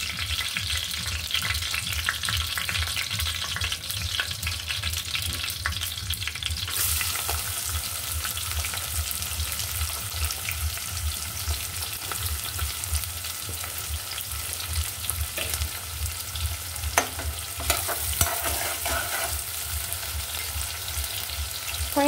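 Chopped onions frying with beef in a pot for khichuri, a loud continuous sizzle with intermittent stirring scrapes and clinks, heard up close, with no one talking.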